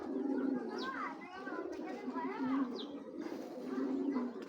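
A pigeon coos several times in low, rolling calls, close and fairly soft, with a few brief higher chirps over a steady low background hum.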